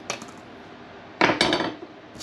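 Small metal Allen screws and parts clatter as they are set down on a hard surface near a homemade surface gauge: one light tap, then two sharp close clinks in quick succession, with no voice.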